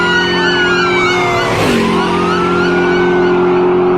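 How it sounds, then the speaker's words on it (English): A police patrol car speeds past with its siren wailing, loud and close, the pitch dropping sharply as it passes and then continuing steadily as it moves away. "The patrol car sped right past them."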